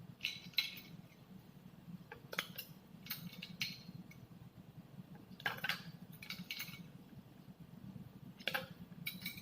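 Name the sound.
ice cubes added to milk sharbat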